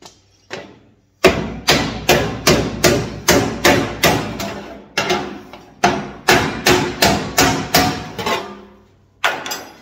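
Hammer blows closing a double standing seam on sheet metal flashing at a wall junction. Sharp, ringing strikes come in steady rhythmic runs, close and loud, with short pauses between bursts.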